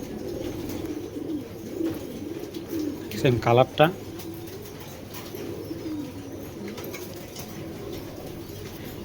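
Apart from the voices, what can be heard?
black checker racing pigeons cooing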